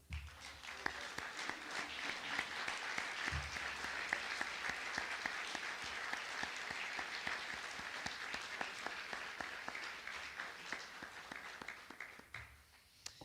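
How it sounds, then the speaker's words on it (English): Dinner guests at a university societies dinner applaud student alumni representatives, a full room of clapping that holds steady for over ten seconds before tapering off at the end. "everyone please join me in a round of applause."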